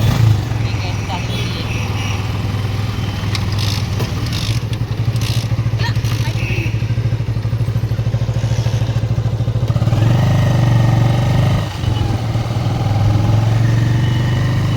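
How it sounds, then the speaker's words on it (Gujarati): A motorcycle engine running in second gear during a night ride on a road, a steady low drone that holds close throughout and rises slightly toward the end, with occasional clatter and nearby voices talking over it. "અત્યારે અમે બીજા જ ગિયરમાં બાઇક છે આપણું."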